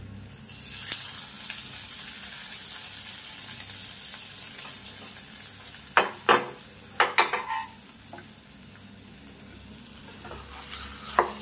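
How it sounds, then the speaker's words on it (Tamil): A spoon stirs a fried tempering into thick malli pongal, scraping with a faint sizzle underneath, a few louder clinks in the middle, no voices. "இப்போ இந்த தாளிப்பு கலவைய அப்படியே நாம பொங்கல்ல கொட்டி கலரிக்கலாம்"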